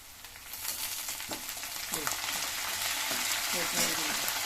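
Cumin and mint fry in plenty of oil in a pan for a chicken gravy, giving a continuous bright sizzle with a few soft stirring scrapes, moderately close and without speech.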